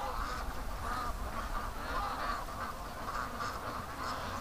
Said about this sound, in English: That's a massive clump of ducks coming home.